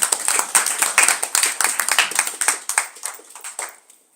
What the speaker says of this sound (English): One clapping for her.